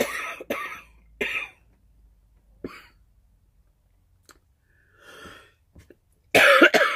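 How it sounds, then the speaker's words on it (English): A person with a cold coughs repeatedly in short, sharp bursts spaced by quiet gaps, close to the microphone, ending in a louder cough fit. "Nobody wants to see anybody coughing and sneezing."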